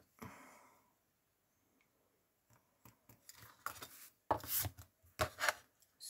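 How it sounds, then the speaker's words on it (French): Paper being cut to 12 cm with a blade, a quick series of crisp snips and slicing strokes close by, following a short spoken phrase and a silent pause. "Donc, je le coupe déjà à 12."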